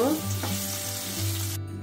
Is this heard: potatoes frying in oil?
yes